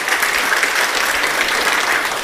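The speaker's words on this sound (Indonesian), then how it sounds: "Kita beri tepuk tangan untuk kebenaran ini." A church congregation gives dense, sustained applause during a service, a loud and even wash of many hands clapping together, with no voices rising above it.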